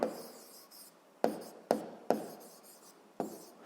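A pen writes a math exercise by hand on paper, heard up close as a few scratchy strokes, each starting with a sharp tap and trailing off, separated by short pauses in a quiet room.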